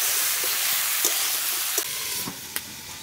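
Cut ridge gourd and potato sizzle steadily in a hot pan, a close, even frying hiss broken by a few faint clicks and stirs.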